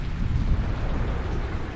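Steady rain falls with a low rolling rumble of thunder in the video game Sinking Island, a dense continuous wash of storm noise with no voices.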